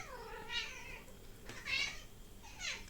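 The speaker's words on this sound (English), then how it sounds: "don't mind my cat." A cat meows three times, each call rising and falling, close but fairly quiet against a faint room background.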